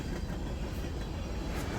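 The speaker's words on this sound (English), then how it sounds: "This is Norfolk Southern train M1R and Extra 11R." A Norfolk Southern freight train rumbles past at close range, a steady loud roar of rolling wheels and cars with no talking.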